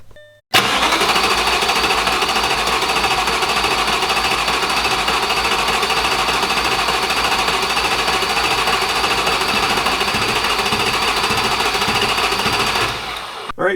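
A 2004 to 2008 Audi S4 B7 V8 engine is cranked by its starter in one long, continuous run of about twelve seconds, a loud, rapid, rhythmic chugging close up that stops without the engine catching.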